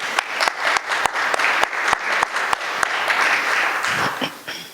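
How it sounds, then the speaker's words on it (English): A round of applause at an ISKCON Chicago community appreciation gathering: a handful of sharp, distinct claps that swell into a fuller, steady crowd clapping before tapering off, with faint background voices near the end. "Let's give a round of applause for her."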